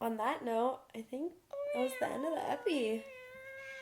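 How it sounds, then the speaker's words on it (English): A house cat meows several times, drawn-out and wavering calls, mixed in with a person talking nearby. "If you hear meows in the outro, that's him."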